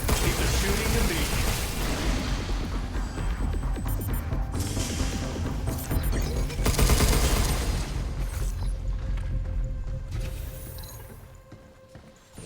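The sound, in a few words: gunfire in the video game Pragmata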